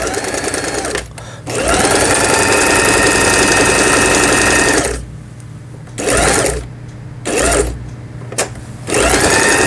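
A Lion 419s sewing machine runs loud and close while stitching a quilted seam, whirring in several long motor bursts separated by short pauses.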